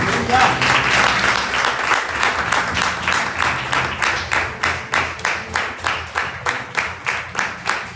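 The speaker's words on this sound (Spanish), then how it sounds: "¿Cuánto le brindamos un fuerte aplauso al Señor?" A church congregation applauds, first as a dense burst of clapping, then settling into loud, rhythmic unison claps at a steady beat, close and energetic.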